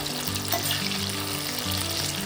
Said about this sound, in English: continue frying the chicken until it turns golden and crispy.